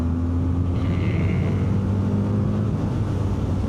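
A BMW R12 nineT motorcycle engine drones steadily at close range, its low hum continuous beneath heavy wind rush, with no clear rise in pitch.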